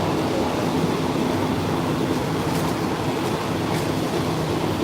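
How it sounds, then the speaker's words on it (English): A train rolls along the rails, heard from inside a cattle car as a steady, loud rumble with faint clickety-clack over the wheels and no pauses. "Welcome to your virtual train ride."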